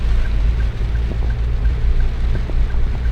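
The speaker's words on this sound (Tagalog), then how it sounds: "Grabe, lakas ng ulan." Heavy rain pours steadily during a night drive toward a bridge in Manila, a dense continuous wash of noise over a low vehicle rumble, with no talking.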